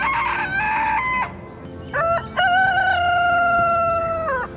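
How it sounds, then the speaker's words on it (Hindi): A rooster crows loudly and close by in two long harmonic calls, the first short and cut off, the second rising and held for about two seconds, with no talking. "जितने बजे चाहे मिस्टर मुर्गा बांग दे सकते हैं।"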